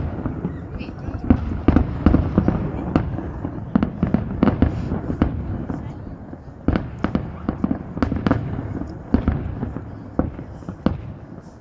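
Fireworks burst over Ramberget in a rapid, irregular string of sharp bangs and crackles, some near and loud, others fainter, while people chat in the foreground.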